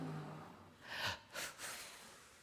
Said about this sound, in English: it's just kind of like three little inhales to get yourself hyped up